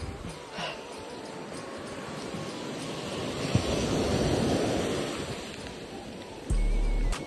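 Sea waves breaking on the Konkan coast at Devgad, a broad steady wash of surf that swells and recedes, with a brief low thump near the end.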